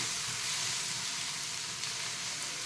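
Ground garlic, onion and tomato masala sizzling steadily in a hot pan, a dense, continuous hiss close up with no pauses or voices.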